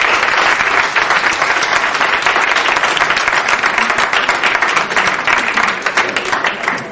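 A crowd at an Urdu poetry gathering in Houston gives a poet a full, dense round of applause. The clapping is loud and steady throughout and ends with a slight fade.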